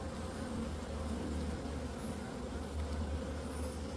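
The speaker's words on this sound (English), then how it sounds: "It is packed with bees." Honeybees crowd a packed hive during an overcast early-spring inspection in Melbourne, filling the air with a dense, steady, close buzz that holds without a break.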